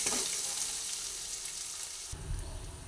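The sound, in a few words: frying spices (masala) with Kashmiri chili powder in a pan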